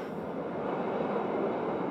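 The Bernina Express rumbles along its track, a steady, muffled roar of wheels and carriages heard from on board without pause or voices.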